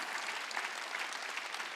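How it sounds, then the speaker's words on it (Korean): Brief, steady applause from a church congregation during a Sunday worship service, many hands clapping together at moderate volume throughout. "박수 치라 이게야."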